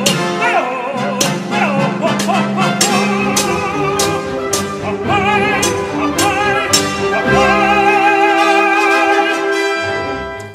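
A tenor sings Wagner's Siegfried in full operatic voice over orchestral accompaniment, with sustained and held notes rising and falling throughout.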